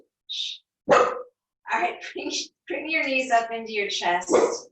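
A dog barks once, sharp and fairly close, while a person speaks calmly before and after it.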